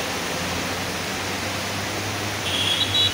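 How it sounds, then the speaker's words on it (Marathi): Heavy monsoon rain pours down near the Grant Road station bridge in Mumbai, a dense, loud, unbroken hiss with a low rumble beneath and faint higher tones near the end. "बघा बघा फुल जोरदार पाऊस चालू आहे इकडे. म्हणजे मुसळधार पाऊस पडतो 2 दिवसापासून."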